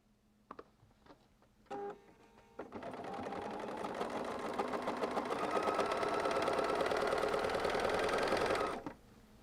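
A sewing machine stitches pieces of a poinsettia quilt block together, a few short bursts giving way to a steady, loud whirring run of rapid needle strokes that continues for several seconds before stopping abruptly.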